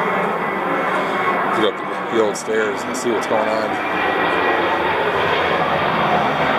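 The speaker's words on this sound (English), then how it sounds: "Here comes an airplane, sorry." A fixed-wing airplane passing overhead near a dumpster, its steady broad engine roar running throughout beneath someone talking.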